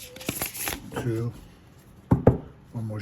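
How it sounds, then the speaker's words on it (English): Tarot cards being shuffled, a few short riffling bursts separated by pauses, close and crisp, with a voice talking over them between the shuffles. "Let's give this a couple of shuffles."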